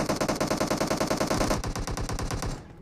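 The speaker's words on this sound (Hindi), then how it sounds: "इधर हमें कुछ शरारती गन फाइट्स के साउंड आ रहे थे" Rapid automatic gunfire from a gunfight in the mobile game Battlegrounds Mobile India, a loud, close, unbroken burst of evenly spaced shots lasting nearly three seconds before cutting off.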